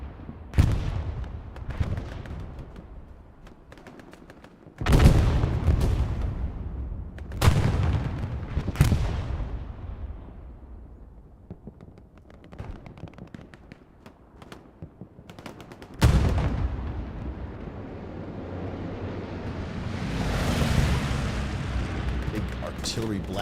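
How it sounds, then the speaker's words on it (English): Heavy artillery blasts and gunfire in a competitive Hell Let Loose match: several loud booming impacts at irregular intervals, each decaying into rumble, with scattered shots and a rising roar later on. "Artillery blast takes out Inf."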